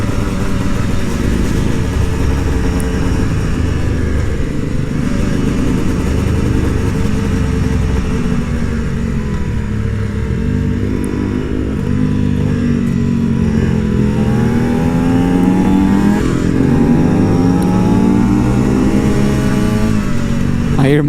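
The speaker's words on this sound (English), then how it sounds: "I hear my bike behind me really loud." Aprilia SX-125 two-stroke supermoto motorcycle ridden along, its engine loud and continuous with rising and falling revs through gear changes, heard up close for the whole stretch.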